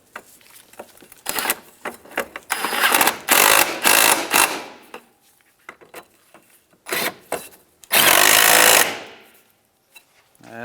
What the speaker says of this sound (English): Now we can tighten them down.